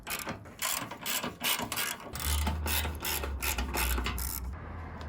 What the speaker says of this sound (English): remove the clearly visible three 10mm bolts